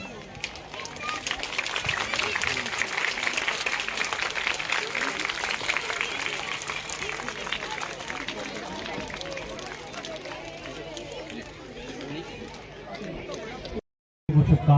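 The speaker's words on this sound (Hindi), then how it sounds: "तालियों की आवाज और जोश आज पूरे दिन कम नहीं होना चाहिए" A large crowd applauds continuously for several seconds at the opening of a school's cultural festival, with scattered cheers and murmuring voices mixed in before the clapping fades.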